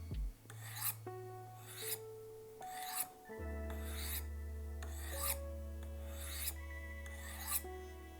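A knife blade strokes against ceramic rods with medium pressure, a rhythmic series of about ten close, rasping swipes with ringing metallic tones between them.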